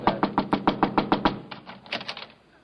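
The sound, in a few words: knocking on a door, radio sound effect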